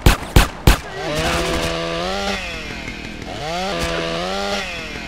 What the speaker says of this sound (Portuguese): Vai ser na motosserra.